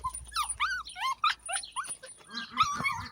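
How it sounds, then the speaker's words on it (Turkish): A newly acquired male dog whimpers and yips in a run of high, wavering whines and short squeaky yelps, close and fairly loud, around a backyard chicken coop. "Bu arada yeni köpeğimiz Gece"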